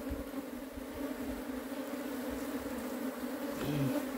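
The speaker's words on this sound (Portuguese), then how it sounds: "Tá vindo uns enxame bruto esse ano." A large swarm of bees being captured inside a shed, a dense continuous buzzing hum from many insects, steady and close throughout with no talking.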